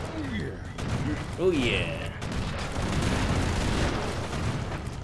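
Shotgun blasts in the side-scrolling action game Broforce, a few booming shots and explosive bursts mixed with chaotic game noise while players talk over it.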